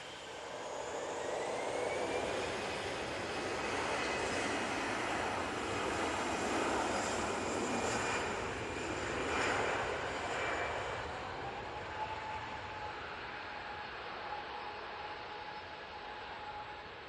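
An orange easyJet airliner departs Manchester Airport for Belfast, its jet engines a steady broad roar held for many seconds, distant and slowly fading.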